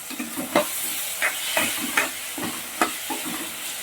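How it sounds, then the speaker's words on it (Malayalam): Chillies frying in a pan with salt while being stirred with a spoon: a constant sizzle with repeated scraping strokes at an irregular rhythm, close and clear. "നമുക്ക് അതിലോട്ട് ശകലം ഉപ്പിടാം ആവശ്യത്തിന്. നമുക്കൊന്ന് ഇളക്കാം"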